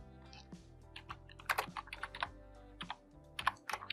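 Someone types HTML code on a computer keyboard, producing close, irregular key clicks with a few quick clustered bursts and brief gaps.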